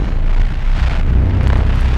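A loud, sustained explosion in the Dead Space 3 video game, a dense roaring blast with heavy low rumble that fills the whole stretch without pause, and no talking over it.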